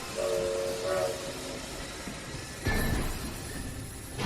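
Steam whistles blow as a train starts its journey, followed by a loud burst of hissing steam and rumbling rail noise close by.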